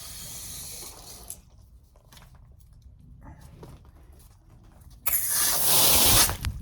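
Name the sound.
water flowing back into pipes after restoring water supply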